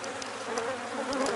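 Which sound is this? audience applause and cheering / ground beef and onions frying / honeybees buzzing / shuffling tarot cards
honeybees buzzing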